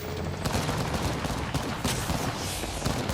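Apex Legends gunfire, dense overlapping automatic shots and impacts sustained throughout, loud and busy with no voices over it.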